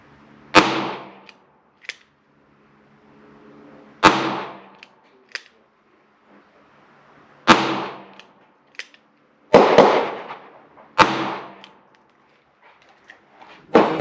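Gunshots firing wadcutter rounds cast from a Saeco 381 mould, five or six sharp, loud cracks spaced a couple of seconds apart, each with a short ringing decay, plus faint clicks between shots.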